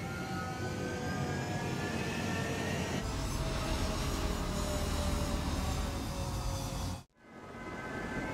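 Fighter jet engine roaring steadily at close range during takeoff from a runway in the combat flight game Ace Combat 7, building in intensity before cutting off abruptly near the end.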